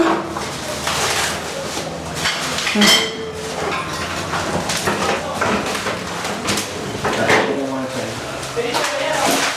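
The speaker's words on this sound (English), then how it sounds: "So guys, we're just unboxing the stove." A stove being unboxed, with metal parts clinking and clattering in irregular bursts, close and fairly loud, while people talk over it.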